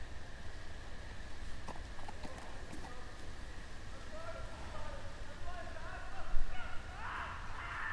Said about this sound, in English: I don't know the horse's name, but it looks like Sparkles to me